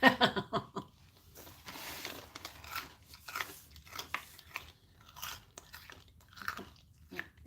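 Someone chews crunchy food close to the mic with quiet, irregular crisp bites and crackling crunches, louder at first and then softer repeated chewing.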